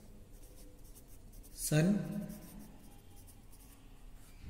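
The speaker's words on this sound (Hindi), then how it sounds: "हम सिंपल सा लिखेंगे आंसर" Chalk or marker writing an answer on a classroom board, one short burst of scratchy strokes standing out above a quiet room, with a teacher's voice briefly audible.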